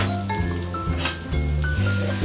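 Chopped prosciutto crudo with lemon and orange zest sizzles as it heats in a pan. The frying hiss is steady and close, with no talk over it.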